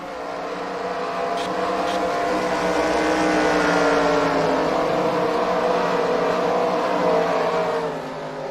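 Race cars roaring at Eldora Speedway, a loud sustained multi-engine drone that swells to a peak mid-way and eases slightly near the end.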